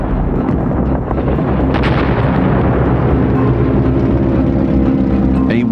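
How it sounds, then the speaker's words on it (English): Heavy booming artillery fire from a Vietnam War battle, a loud continuous rumble with deep thuds and blasts, no pause across the stretch. "Hal Moore called in all the firepower at his disposal. Nearby were two artillery units"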